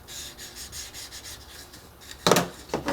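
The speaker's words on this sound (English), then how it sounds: "we can reach in and give that a good burnish all the way up to the point" Burnishing the cone of a model castle tower: a run of soft, rhythmic rubbing strokes, close and steady, then a couple of sharper scraping or tapping bursts near the end.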